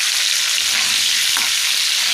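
Sliced tomatoes frying in oil in a pan for a rohu fish curry with potatoes, giving a steady close hiss of sizzling throughout with a faint scrape or stir partway through.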